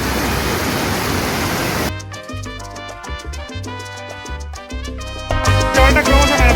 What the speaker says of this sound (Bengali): খরস্রোতা তিস্তার জল পাহাড়ের বুক চিরে কিরম নেমে আসছে